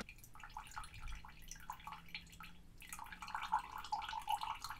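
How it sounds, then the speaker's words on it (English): Chilled Hi-C Ecto Cooler poured from a container into a collectible glass, giving a steady close trickle and splash of liquid that runs throughout with small drips toward the end. "Both drinks have been chilled to perfection, so let's start the pouring."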